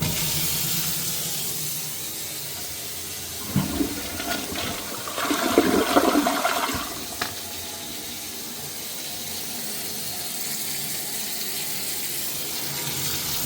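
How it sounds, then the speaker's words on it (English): Hot water runs from a tap over thick, very old baby formula. A rushing burst of a few seconds swells and then fades back into a steady, low background hiss. "Let's start running the hot water."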